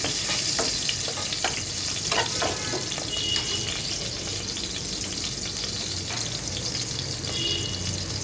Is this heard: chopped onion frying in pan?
yes